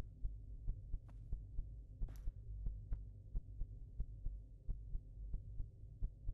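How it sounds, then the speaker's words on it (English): In the indie horror video game The Stalked, a slow, steady heartbeat thumps in a regular rhythm over a low throbbing hum, close and prominent with no talking. "What's that sound? Is that my heart beating?"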